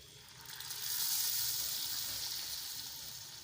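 Lemon juice sizzles and bubbles in a frying pan with green chillies and oil for country-style lemon rice, a close, steady hiss that swells briefly and then eases.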